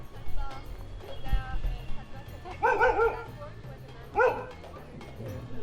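Dogs barking on the streets of Rishikesh near the river ghats, two short bursts of yapping barks at moderate distance over a low rumble of outdoor street noise.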